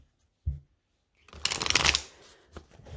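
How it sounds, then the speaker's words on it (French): Cards from a haiku oracle deck are shuffled and drawn, giving a brief soft tap followed by a close, dense papery riffle lasting under a second, then a light flick. "On va prendre 3 cartes de l'oracle des haïkus."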